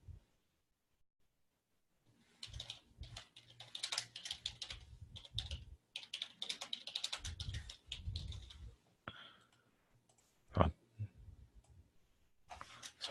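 Rapid bursts of typing on a computer keyboard, close and fairly quiet, with irregular pauses between runs of clicking keys.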